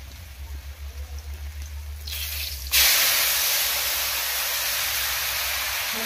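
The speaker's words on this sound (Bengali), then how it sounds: "সরষাটা পিষে রেখেছিলাম সেটা দিয়ে দিলাম তেলের সঙ্গে" Ground mustard paste dropped into hot oil sets off a loud, close sizzle that jumps up suddenly and keeps hissing steadily, with a low rhythmic rumble before it begins.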